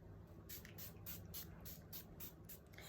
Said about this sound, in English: you would just shake it and just spray in a circular motion